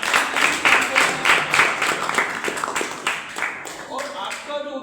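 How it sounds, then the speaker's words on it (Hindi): Rhythmic group clapping from an audience at an Indian event honouring a Vedic gurukul founder, steady and fairly loud at first, then thinning out and fading as a voice begins speaking near the end. "जोरदार तालियां हो जाएं।"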